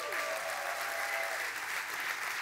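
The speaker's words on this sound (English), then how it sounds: "give you a round of applause the way you deserve" Audience applause at a hackathon closing ceremony in San Francisco, steady dense clapping filling the whole stretch at moderate, even loudness with no voices over it.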